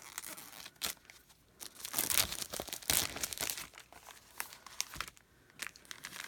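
A paper craft kit package is torn and unwrapped close by, with loud crinkling and crumpling of paper and tissue in irregular bursts, rising and falling over several seconds without speech.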